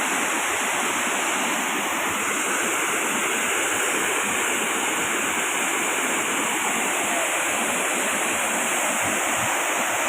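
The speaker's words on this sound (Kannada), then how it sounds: "ಇದೇ ನೋಡಿ ಚಾಮಡ್ಕ ಜಲಪಾತ." Chamadka waterfall roars in a constant, dense rush of falling water, loud and close, steady for the whole stretch without any talking.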